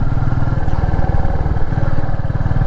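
A Royal Enfield Meteor 350 SuperNova motorcycle on the move, its single-cylinder engine thumping in a steady low, fast pulse at close range, loud and continuous with no talk over it.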